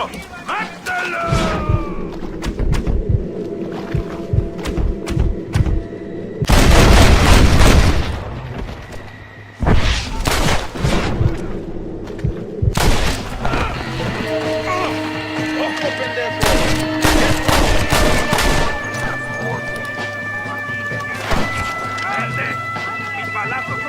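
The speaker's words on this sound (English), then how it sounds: "Stop shooting at me!" Gunfire crackles in the Red Dead Redemption video game, scattered shots and heavy booming bursts mixed with galloping hooves and a music score, with voices shouting in English and Spanish over the chaos.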